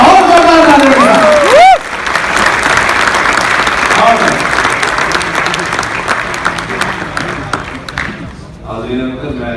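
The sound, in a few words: loud applause welcoming poet at mushaira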